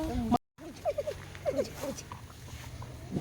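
A dog gives a few short, high yelping whines in quick succession, fairly faint against a quiet background after a brief gap.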